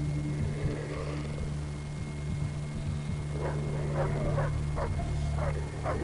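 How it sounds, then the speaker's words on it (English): Dogs in a video game bark in a quick run of yips and bow-wows during the second half, moderately loud over a constant steady hum of game ambience, with no talking. "Are they barking at me or something else?"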